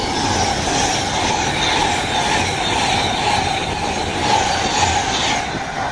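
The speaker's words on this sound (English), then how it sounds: "It's Virgin Trains Pendolino to I don't know where" A Virgin Trains Pendolino passes through Milton Keynes Central station, a loud, steady rumble and rush of rail noise with wheel and track clatter that holds close and constant throughout, with no voices.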